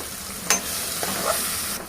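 Stuffed brinjal curry being stirred with chili powder in a pan, a close sizzling fry with a few sharp spoon scrapes and clinks over two seconds, no talking.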